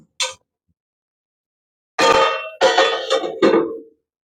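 A metal lid goes down over a cooking pan with a ladle left inside, giving a brief tap followed by a cluster of close, bright metallic clangs and rattles before silence.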